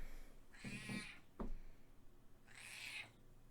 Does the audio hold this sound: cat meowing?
yes